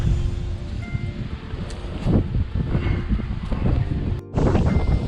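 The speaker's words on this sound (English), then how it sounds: "It's really windy here." Strong wind blows along the Bruce Trail in the Sydenham Section, a continuous gusty roar battering the microphone with rustling surges, briefly dropping out before returning.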